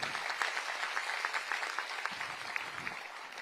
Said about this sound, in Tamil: அவர்களுக்கு நம்ம அனைவரும் சார்பாக பாராட்டுகளை கைத்தட்டுகளை தெரிவிப்போம்.